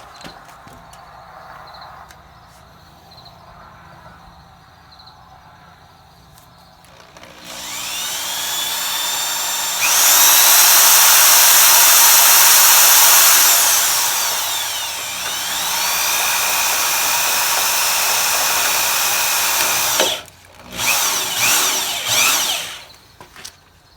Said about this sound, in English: I'm just going to come over and drill through the other way.